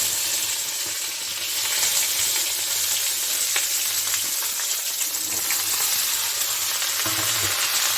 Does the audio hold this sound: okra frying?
yes